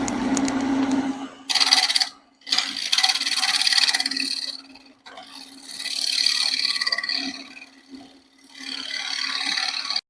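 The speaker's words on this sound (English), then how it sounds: "So now we're just going to turn this nub or the tenon away just very," A wood lathe spins a small wooden penny plate while a gouge scrapes and cuts away its tenon, giving bursts of hissing, rasping cuts over a steady motor hum, broken by brief pauses.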